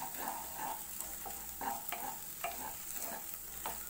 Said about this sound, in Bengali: এখন এটিকে এইভাবে নাড়িয়ে নাড়িয়ে ঘুরিয়ে ঘুরিয়ে ভেজে নিতে হবে।